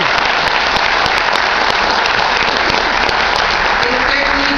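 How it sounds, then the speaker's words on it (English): An audience at a graduation ceremony bursts into sustained, dense applause for the instructors, loud and close, with sharp individual claps standing out through the steady roar and a brief voice near the end. "Can we get a round of applause for these fine ladies?"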